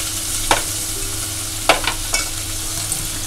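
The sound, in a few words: onion frying in oil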